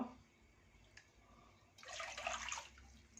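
Water is poured into rice flour in a kitchen, a faint trickle first and then a brief louder splashy pour that fades, with no one speaking.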